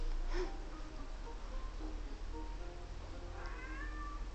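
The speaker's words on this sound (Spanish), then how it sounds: "Ese es Adán, el gato policía" A cat meows in the video game Catz, a couple of faint, thin cries rising over a steady low background hum, with no talking.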